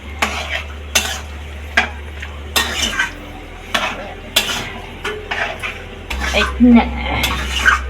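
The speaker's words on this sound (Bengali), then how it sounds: "এখন এই পেস্ট করা লঙ্কাটা দিয়ে দেবো, দিয়ে একটু নাড়িয়ে এমনভাবে নাড়াবেন যাতে সব জায়গায় মিশে যায়।" Bottle gourd greens are stirred with chili paste in a pan. A spoon scrapes and clacks against the metal in a quick, repeated rhythm over a low hum and a light sizzle, loud and close, with no talking.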